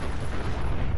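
A loud, rumbling explosion in Fallout 4, a single sustained booming blast that fills the whole moment, close and heavy with no voices over it.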